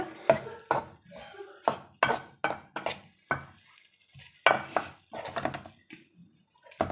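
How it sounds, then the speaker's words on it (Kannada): Water splashes into a hot pan of brinjal palya on the stove, then a utensil stirs and scrapes the metal pan in sharp, uneven clatters and knocks, with a faint sizzle between strokes and no talking. "ನಾನಾದರೆ ಚೂರೇ ಚೂರು ನೀರನ್ನು ಹಾಕ್ತಿದ್ದೀನಿ"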